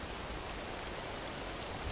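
Rain falling in a jungle setting of a military video game, a steady faint hiss of broadband noise with no talk over it.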